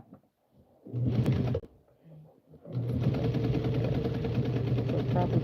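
A sewing machine stitches black fabric in two bursts of fast, steady motor hum, a short one then a longer run after a pause, close by, with a brief spoken remark between them.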